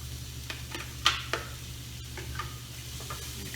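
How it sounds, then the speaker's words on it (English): Shallots dropped into fresh oil in a very hot pan from searing steak give a soft, steady sizzle over a low hum, with a few sharp clicks and stirring scrapes. "I'm going to add a tiny bit of fresh oil, and then I'm going to add my shallots."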